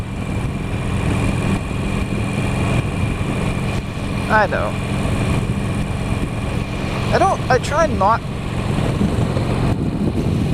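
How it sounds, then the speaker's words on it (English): Wind rushes steadily past a rider on a motorcycle heading home at night, a dense low roar mixed with engine drone, with a voice briefly talking over it. "You can hear a little bit of the wind blowing there."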